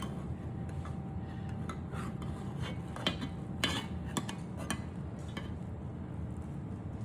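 Crescent-roll breakfast pie cut through to the bottom of the pan, giving close scraping and clinking of a utensil against the pan with a few sharper taps amid steady low kitchen noise.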